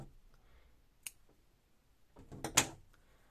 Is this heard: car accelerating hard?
no